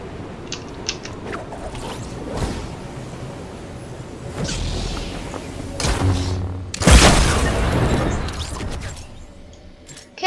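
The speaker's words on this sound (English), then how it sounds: "I didn't know he had a rocket launcher" A rocket launcher blast in Fortnite: thuds and mechanical clatter build to a loud explosive boom about two-thirds through, followed by a rumbling tail, with no voices.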